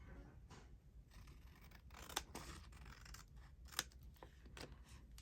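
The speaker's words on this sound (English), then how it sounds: "Then, next step, little snips. Snip, snip, and trim." Scissors snipping and trimming fabric for a pocket with a window flip, several close, crisp cuts at irregular intervals, two of them sharper, over quiet room noise.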